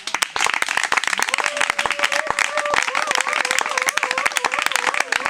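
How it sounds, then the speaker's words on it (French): A church congregation claps and cheers together in quick, dense applause with a sung or chanted tone running through it, loud and close throughout. "Est-ce qu'on peut donner à Jésus une offrande des acclamations?"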